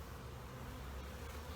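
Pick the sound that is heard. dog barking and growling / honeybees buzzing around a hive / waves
honeybees buzzing around a hive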